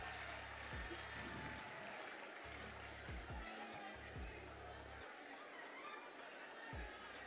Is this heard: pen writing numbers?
no